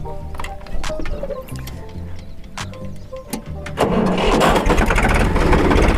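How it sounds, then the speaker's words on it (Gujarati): A second-hand tractor's engine is cranked with a few stuttering turns before it catches at about four seconds and settles into a loud, close, steady running roar. "તો માનો કે આપણે ટ્રેક્ટરને પહેલાં ચાલુ કરી લઈએ છીએ બરોબર છે"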